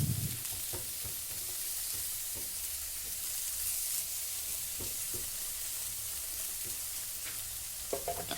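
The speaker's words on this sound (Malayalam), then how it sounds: "തിരിച്ചു മറിച്ചൊക്കെ ഇട്ട് ഒന്ന് വാട്ടിയെടുക്കാം." Onions and tomatoes sautéing in a pan for a butter masala base, a steady close sizzle and fry with occasional stirring clatter and utensil scrapes, no talking.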